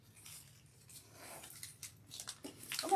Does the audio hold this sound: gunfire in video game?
no